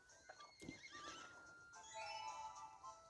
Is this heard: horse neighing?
yes